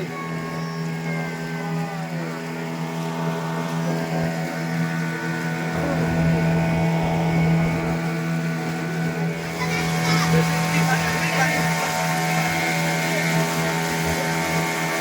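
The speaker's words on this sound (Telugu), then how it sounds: "మా వెనకాల కూడా ఒక బోట్ వస్తుంది" A motorboat passes behind a boat out at sea off Puducherry, its engine a steady droning hum that swells somewhat midway, heard together with wind noise.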